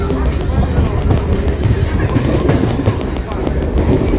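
A train rumbles steadily along the tracks near Kolar, a loud continuous rattle and roar with faint voices murmuring underneath.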